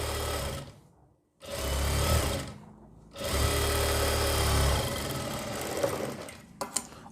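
A sewing machine stitches along a folded half-inch fabric edge on a kurti back, running in three close, loud whirring bursts separated by brief stops, ending with a few small clicks.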